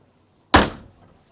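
A heavy car boot lid on an early base-model car slams shut with a single solid thunk, loud and close, then a short decaying rattle; no voices.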